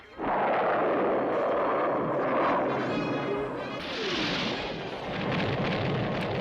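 A cartoon explosion from the G.I. Joe animated series, a sustained roaring rumble that swells and churns for several seconds, heard alone without talk.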